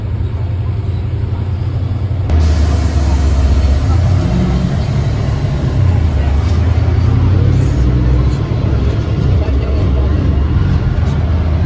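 A city bus in Brazil pulls up close by, its heavy engine rumbling loud and steady under street noise, with people talking over it.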